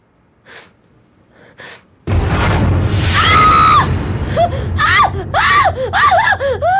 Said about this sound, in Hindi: तुम ऐसी चीखी क्यों?